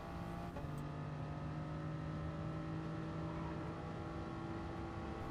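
A Toyota GR Supra race car in Gran Turismo Sport accelerates through a high-speed section of the Nürburgring 24h circuit, its engine a steady, sustained drone that holds constant at a fairly low level throughout.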